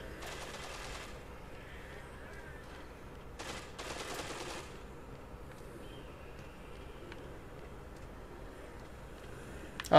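Distant bursts of gunfire from a man shooting in the video game Dead Rising 2, faint rattling volleys under a steady low background drone, with a brief louder crack at the very end.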